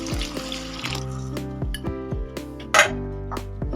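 A cup of water is poured into a pan of egg tadka with beaten egg, a splashing pour over ringing clinks and knocks of metal cookware, close and fairly loud.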